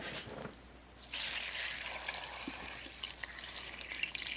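Water pouring over freshly picked green spruce tips in a container, a steady trickling and splashing stream that starts after a brief quieter moment and continues close by, with no talk.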